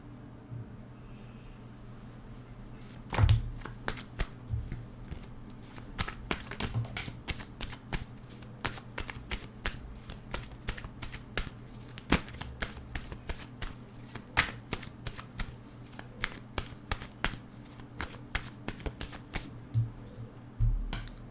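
Tarot cards are riffled and shuffled by hand in a quiet room, making a long run of soft, rapid slaps and flicks, close and faint, with no talk.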